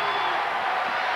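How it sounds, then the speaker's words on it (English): Crowd noise fills a college basketball arena during an Iowa at Northwestern game, a dense, sustained roar of cheering with no distinct breaks. "This crowd is evenly split and making a lot of noise"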